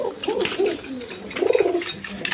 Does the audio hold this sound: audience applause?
no